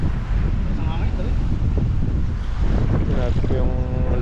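Strong wind buffets a boat at sea in cold weather, a loud constant roar across the whole stretch with water wash beneath and brief muffled voices in the background.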